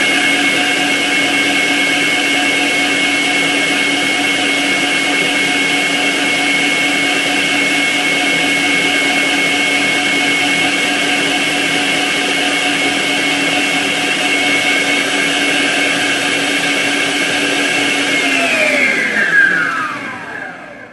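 A stand mixer beats butter for cake batter with a steady, loud motor whir that holds evenly for about nineteen seconds, then winds down as the beater slows to a stop. No one speaks.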